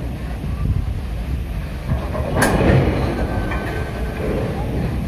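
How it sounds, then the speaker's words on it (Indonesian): A railway work train carrying rails for the Jakarta–Bandung high-speed line rumbles past close by with steady low mechanical noise and wind buffeting, a brief sharp metallic squeal rising briefly midway. "rangkaian kereta kerja penarik rel atau rangkaian kereta kerja yang membawa rel"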